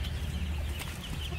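Chickens cluck steadily at close range in a farm coop where hens lay eggs in nests, a continuous low chorus of overlapping clucks with no talk.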